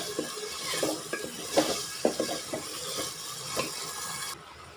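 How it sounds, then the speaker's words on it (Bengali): Rice and vegetables are stirred and fried in a pan, giving a steady sizzle with repeated scraping and clinking strokes of a spoon against the metal, close up, with no talking. "এখন হলো আমি চালটা ভালোভাবে নেড়ে চেড়ে কষিয়ে নেব।"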